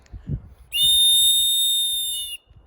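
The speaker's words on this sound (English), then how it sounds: "This is just a basic whistle." A basic survival whistle is blown once in a single strong, shrill, steady blast lasting under two seconds. It is close and loud, with faint outdoor rustle before and after.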